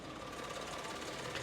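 A Maruti car engine idling with the bonnet open, giving a faint, steady, rattling hum with a fast knocking vibration running through it.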